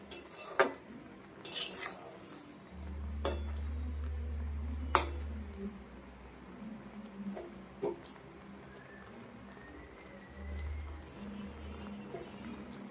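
Metal spatula clinking and scraping against a pot of sweet-sour-spicy mango pickle made without oil, several sharp clinks scattered among softer stirring scrapes, close and fairly quiet with a low hum underneath.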